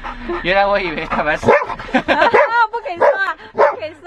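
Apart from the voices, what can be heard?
golden retriever dog barking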